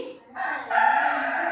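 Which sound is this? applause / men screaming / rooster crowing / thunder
rooster crowing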